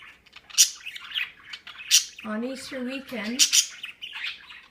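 A pet budgie chirps and squawks in repeated bright bursts, with a run of warbling calls in the middle, close by while a person speaks over it.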